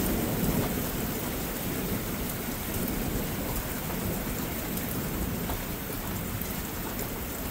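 A thunderstorm with steady, heavy rain pouring down and low rumbling thunder rolling underneath, a constant loud wash of sound with no voices.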